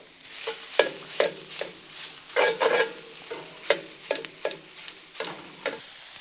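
Bread and minced meat sauté in a pan, a soft sizzle under repeated clinking, scraping stirs that land irregularly about once a second, close by and with no voices.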